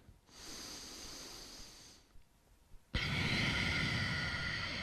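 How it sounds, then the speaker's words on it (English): Slow, controlled breaths through the nose during a yoga exercise: one long airy inhale, a quiet pause, then a louder sustained exhale close to the microphone. "controlled breathing in and out of the nose."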